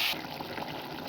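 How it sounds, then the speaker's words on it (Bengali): Chopped ridge gourd with onion, salt and chilli powder simmers in a pan, giving a soft, steady bubbling hiss that is close and fairly quiet and carries on evenly for about a second. "এই দেখেন আমাদের ঝিঙে ফুটছে"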